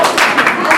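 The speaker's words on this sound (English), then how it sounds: "3 claps to begin with." Loud, close group clapping at a school reunion function, a short burst of quick claps crowded together with voices mixed in.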